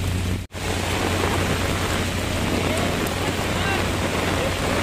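Heavy rain pours steadily at Manila Bay, a dense, constant hiss of water on surfaces close to the microphone with one brief dropout early on.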